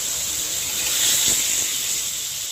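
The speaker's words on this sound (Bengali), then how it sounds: "কড়াইতে দিয়ে দিলাম লাউয়ের টুকরো" Steady hot-oil sizzle from bottle gourd pieces frying in a wok, a continuous bright hiss that swells slightly in the middle before settling back.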